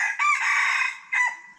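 A rooster crows loudly and close by, one drawn-out call followed by the start of a second, with no voices around it.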